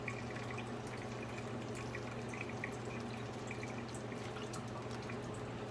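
Grease poured off a cooked meatloaf into a bowl trickles and drips in a quiet, continuous stream over a low hum.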